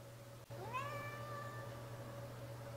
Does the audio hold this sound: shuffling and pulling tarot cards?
no